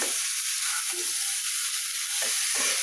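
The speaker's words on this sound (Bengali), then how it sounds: "মশলা কষানোর জন্য জল দিলাম না," Spice masala frying without water, with goat trotters added for mutton nehari, makes a loud, dense, unbroken hiss close up, with faint stirring movements underneath and no talk.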